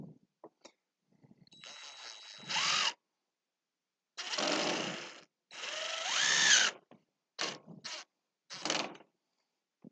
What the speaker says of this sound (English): Let's put our screws in where they belong over here.